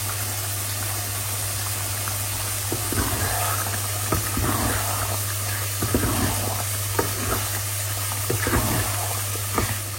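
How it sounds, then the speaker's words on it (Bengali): Chicken breast being stir-fried bhuna style with green and red peppers: continuous sizzling under a low hum, with repeated scraping stirs of the spatula, no voices. "পুরো চিকেন ব্রেস্ট রান্না করবো, ভুনা করবো, গ্রিন পেপার, রেড পেপার এগুলো দিয়ে"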